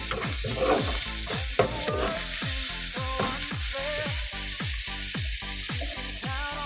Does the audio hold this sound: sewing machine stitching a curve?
no